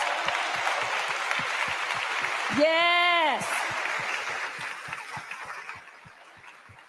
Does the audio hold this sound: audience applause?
yes